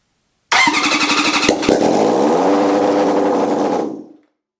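A Honda CB750 motorcycle engine with no exhaust fitted starts abruptly, revs, then settles into a loud steady idle for a few seconds before cutting off.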